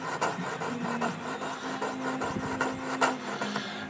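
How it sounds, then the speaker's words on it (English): Cheap leather stitching chisels being sanded, a close, continuous rasping scrape with rhythmic strokes and a faint mechanical hum underneath, no talking. "do some more sanding"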